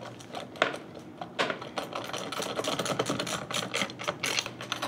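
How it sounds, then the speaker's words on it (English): Mounting bolts on a Link-Belt 22600 Series solid housed roller bearing being tightened, a quick run of close metallic ratcheting clicks in an uneven rhythm, with no talk. "So I go ahead and tighten up my mounting bolts."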